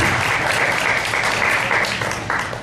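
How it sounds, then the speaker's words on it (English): Loud, sustained applause fills a room at a spring peer-teacher luncheon, steady and close for the whole stretch with no voices over it. "maybe we can give a shout out and a round of applause to Lisa and Allison"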